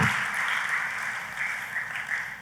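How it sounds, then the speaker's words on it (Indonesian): Steady applause from a church congregation during a sermon, a dense continuous patter of many hands clapping with no break, fairly loud and close. "Tepuk tangannya yang paling meriah buat Tuhan"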